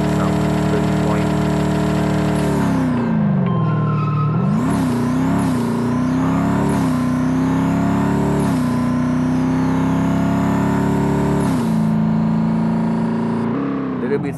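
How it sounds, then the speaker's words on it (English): Ford Mustang GT race cars in the Racing Rivals video game rev hard and steadily, with engine pitch rising and shifting through gear changes, loud and continuous from start to finish. "So right now you can see that the Ford Mustang is going against each other, all trying to set some good point."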